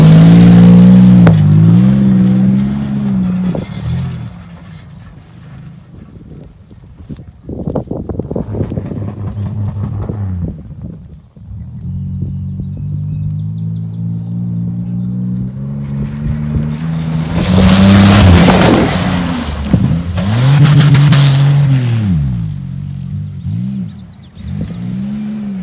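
A Pontiac Grand Prix engine revs hard and loud, surging and dropping in long swells with wind buffeting the microphone, then climbing to a roaring peak before easing off.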